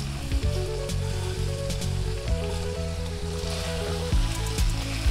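A Kerala thattukada-style chicken roast sizzles loudly in a pan as fried onions go in, a dense steady hiss with occasional bursts of scraping from stirring.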